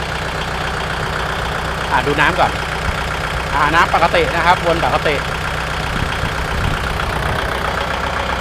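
A Kubota L5018 tractor from 2018, fitted with a front blade and three-disc plough, idles its diesel engine with a steady low rumble while someone talks over it close by.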